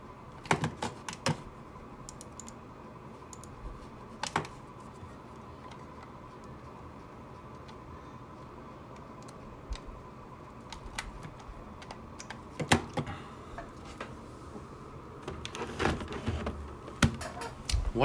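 Irregular bursts of typing on a computer keyboard, soft key clicks close by over a quiet steady background hum.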